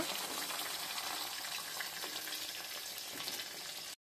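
Steady, dense sizzling of fish pieces frying in hot oil in a kitchen, loud and continuous for about four seconds before stopping abruptly.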